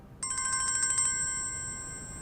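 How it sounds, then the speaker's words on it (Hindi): A phone ringtone for an incoming call chimes in a quick run of repeated electronic pulses, then settles into a steady sustained tone, clear and alone in a quiet room. "उस वक्त किसका फोन आ गया?"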